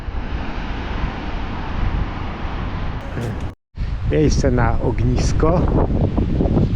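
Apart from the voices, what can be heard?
wind and waves on a stony Baltic beach in Estonia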